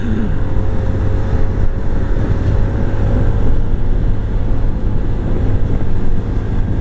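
Honda CS1 motorcycle engine running steadily on the road, a continuous close low drone with slight rises in intensity throughout, no clear separate rev peaks.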